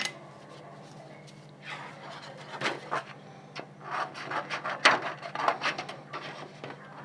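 Shrinkable plastic sheet is roughly trimmed with scissors at close range, giving a series of uneven snipping and rasping cuts that grow busier toward the end.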